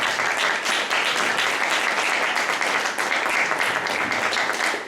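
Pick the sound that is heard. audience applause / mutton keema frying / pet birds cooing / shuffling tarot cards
audience applause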